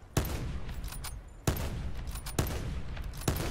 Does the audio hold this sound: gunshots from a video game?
yes